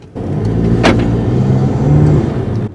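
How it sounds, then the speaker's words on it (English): Skoda Octavia vRS 2.0 TDi diesel with an induction kit pulling away, a loud steady engine drone with a brief turbo whoosh burst early on, no talking. "I can just hear that turbo whooshing, like just pulling away"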